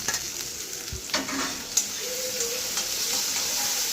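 Tomato pieces sizzle in a pan with onions, ginger and curry leaves, a loud steady frying hiss with a few stirring scrapes and clinks near the start.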